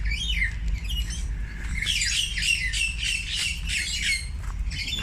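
Several birds squawk and chirp at Port Moresby Nature Park in Papua New Guinea, with harsh, repeated calls overlapping in quick bursts, loud and close over a low background rumble.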